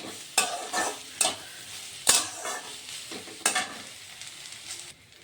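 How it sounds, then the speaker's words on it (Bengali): Boiled potato pieces cut small are stirred in a sizzling pan, and five or six distinct scraping strokes stand out over a soft frying hiss, close and without talk. "আলু সেদ্ধটাই দিয়ে দিচ্ছি"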